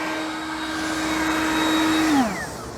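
Cordless vacuum cleaner motor running close by, a steady high whine with airflow hiss that holds, then winds down in pitch at the end as it slows.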